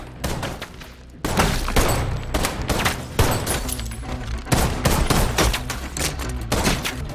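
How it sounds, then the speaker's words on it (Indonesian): Dense gunfire erupts in a shootout between agents in the 2020 Liam Neeson film Honest Thief, with rapid overlapping shots, booming impacts and heavy thuds firing continuously and loudly throughout. "tembak-menembak pun terjadi"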